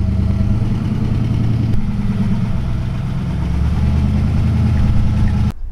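A 289 V8 engine in a 1932 Ford 5 Window Coupe idles with a deep, steady rumble at close range, with a low throbbing burble that cuts off abruptly near the end.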